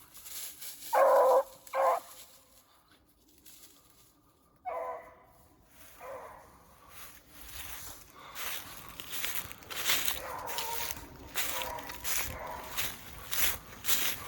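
A hunting dog works a leafy field at night, giving a couple of sharp barks early on, then rustling and crunching its way through dry leaves at close range.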